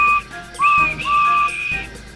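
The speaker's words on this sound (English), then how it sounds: "And he blew his whistle." A steam engine's whistle sounds in a children's railway story, clear and shrill, in two or three sustained tonal blasts with brief breaks between them, alone without talk.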